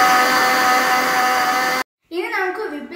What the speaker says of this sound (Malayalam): ഇനി നമുക്കിതൊന്ന് ബ്ലെൻഡ് ചെയ്തെടുക്കാം.